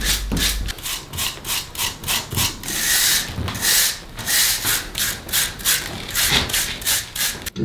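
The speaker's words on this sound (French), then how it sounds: "on prend une brosse métallique et on passe au grattage" Wire brush scraping fresh mortar joints on a brick wall, loud close rhythmic back-and-forth strokes in quick bursts, with no voices.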